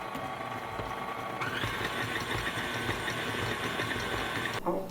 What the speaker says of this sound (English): So I'm going to put this in my mixer and see what happens.